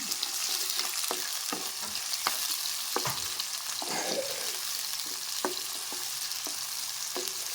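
Food fries in a pan with sauces added, a soft, constant sizzle under repeated clinks and scrapes of a spoon stirring against the pan.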